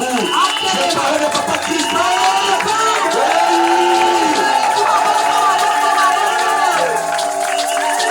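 An audience at a church ministerial installation service cheers and claps in a sustained, loud wash of crowd noise, with shouts and voices rising throughout.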